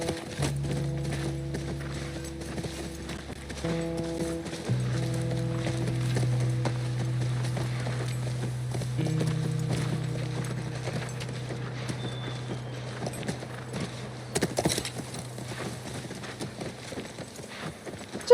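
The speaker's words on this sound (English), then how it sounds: "That's our horse." Horse hooves clip-clop in the video game The Last of Us Part I as the horse moves through woods near a ranch, a steady rhythmic trot heard under sustained game music.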